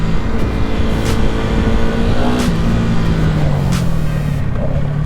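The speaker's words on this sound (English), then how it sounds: "Bike gets up and goes for a 250, I can tell you that." A Yamaha WR250R dual sport motorcycle accelerates hard, its 250 engine climbing through rising harmonics with wind rush, loud and close from the rider's position.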